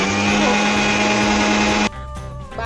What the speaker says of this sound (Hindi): इसको मिक्सर जार में थोड़े धनिया ले लिए 50 ग्राम जितने